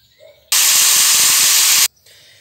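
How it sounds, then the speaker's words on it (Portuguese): An angle grinder cutting, a loud, close, continuous high-pitched hissing whine lasting just over a second, starting and stopping sharply amid quieter background sound. "agora eu vou pegar a lixadeira"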